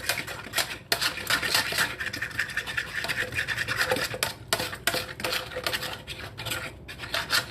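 A utensil scrapes and clatters against the sides of a pot while stirring a levain starter mixture of flour and water, with quick rhythmic scratches and knocks, close and fairly loud, with no talking.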